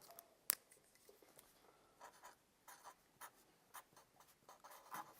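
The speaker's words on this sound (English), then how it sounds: "So let's write that down." Pen scratching on paper while a resistor value is jotted down, faint and close, a string of short irregular strokes with one sharp tap near the start, no speech.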